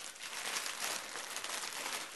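Crinkling of a small plastic packet from a SAVONRY order being handled up close: a steady, dense crackle that lasts about two seconds with no talking.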